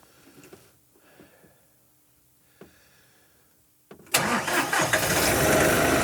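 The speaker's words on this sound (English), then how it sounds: "So I think it's time to fire up the tractor and see if we got it right." A diesel tractor engine cranks and fires after its glow plug cycle: a few quiet clicks and knocks, then a sudden loud catch into a steady, rumbling idle close by.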